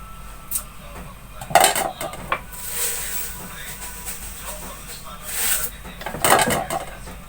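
Spoon stirring rice kheer in a pot over low heat, with a few clinks and scrapes against the pot in short bursts under a steady background hiss.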